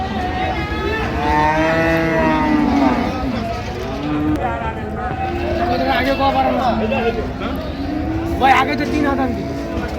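Sahiwal cows and calves at the Ambari cattle market in Dinajpur give long, repeated moos close by, overlapping one another beneath steady crowd chatter and people talking.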